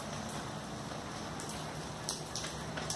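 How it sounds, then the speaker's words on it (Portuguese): Rain falls steadily as a dense, even hiss, with a few sharper drips near the end and no voices. "Olha, tá chovendo."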